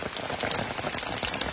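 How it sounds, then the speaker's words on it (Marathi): Steady rain pattering on surfaces during the first monsoon rain in Konkan while catching crabs outdoors, a dense close hiss of drops with no voices. "आता पाऊस पडता मस्तपैकी"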